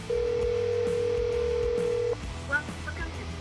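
An outgoing phone call rings as a single long, steady tone for about two seconds, then cuts off into quiet room noise with faint voices.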